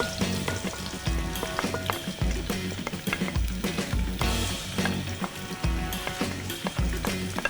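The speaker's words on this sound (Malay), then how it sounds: "So meanwhile garlic ni kita tumis." Garlic sautéing in a pan, a loud close sizzle with rhythmic spatula scrapes and knocks repeating every second or so.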